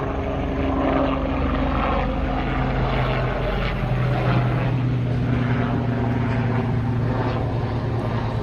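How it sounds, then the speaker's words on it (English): A low droning aircraft engine, a helicopter's steady hum and rotor thrum over Central Park, New York City, holding at a moderate distance throughout. "And that's a helicopter."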